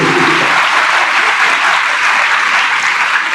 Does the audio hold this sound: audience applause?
yes